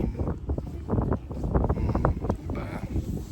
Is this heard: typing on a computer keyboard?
no